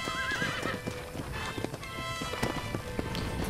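Horse hooves clip-clop in a steady galloping rhythm while the horse whinnies loudly near the start, with in-game music and ambience underneath, from the Red Dead Redemption video game on Xbox One X.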